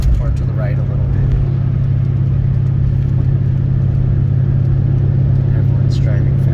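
A 2003 Toyota Prius with its catalytic converter stolen, driving on a rough, damaged road, gives a steady loud low engine rumble that holds throughout, with faint road noise on top.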